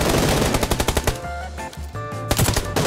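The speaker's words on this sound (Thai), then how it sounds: "ใครยิงไอ้นี่อีกแล้ว" Rapid bursts of automatic gunfire from the video game PUBG Lite, loud and close, with a short pause in the middle before the shooting resumes, no talk.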